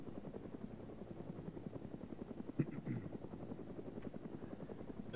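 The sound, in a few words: combat helicopter flying in ArmA 3 video game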